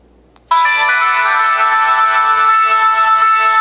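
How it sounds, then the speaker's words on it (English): After a brief quiet moment, a loud, bright electronic ringtone melody starts abruptly and plays on steadily through a small speaker. "Ringtones, which is basically my music."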